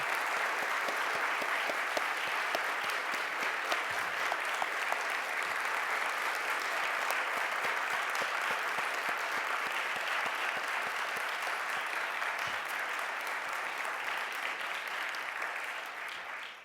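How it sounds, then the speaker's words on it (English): Sustained applause from an audience at a Veterans Day color ceremony, dense steady clapping filling the room for the whole stretch, fading slightly at the very end, with no clear voices on top. "everyone please join me in a warm welcome and round of applause for those"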